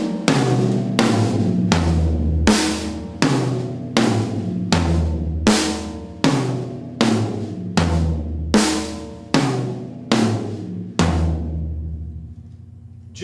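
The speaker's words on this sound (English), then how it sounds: "Example number 1 just has you going around the drum set: snare, rack 1, rack 2, floor" Drum set warmup figure moving around the kit from snare to first and second rack toms and down to the floor tom, struck in an even, steady rhythm with resonant ringing hits, loud and close, no voices.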